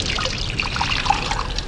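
Water trickling and pouring into a clean sponge during tile installation, a steady close gurgle with small splashes and drips, with no talking.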